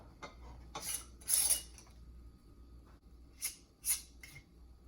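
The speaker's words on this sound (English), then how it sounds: "all we're going to do is take our rings off" Metal screw rings twisted and lifted off sealed glass jars of fig preserves, giving a few light scraping clinks in two small clusters with quiet gaps between them.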